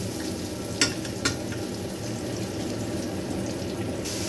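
Onion, garlic and pork fry in a pan for a pork steak, giving a steady close sizzle with a couple of brief stirring scrapes early on and no talk.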